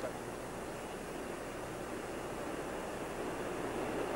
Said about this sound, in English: Sound suppression water system activated.